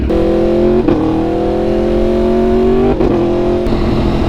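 A loud motorcycle fitted with an SC Project aftermarket exhaust drones steadily with rising pitch as it accelerates, broken by two quick-shift gear-change dips, close and continuous.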